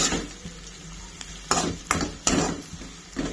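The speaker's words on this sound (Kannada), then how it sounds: "ಗೋಲ್ಡನ್ ಬ್ರೌನ್ ಕಲರ್ ಆಗೋವರೆಗೂ ಚೆನ್ನಾಗಿ ಹುರ್ಕೋಬೇಕು" Food frying in a pan until golden brown, a soft sizzle beneath several sharp clanks of a utensil striking the pan.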